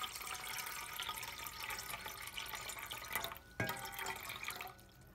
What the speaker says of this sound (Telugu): కొన్ని వాటర్ పోస్తున్నాను.